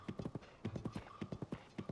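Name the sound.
horse hooves clip-clopping in Zelda: Tears of the Kingdom video game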